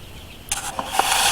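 Two-day-old meat chicks on a ranch peeping: after half a second of quiet, a few short, high chirps ring out close by, then a brighter, sustained burst of cheeping.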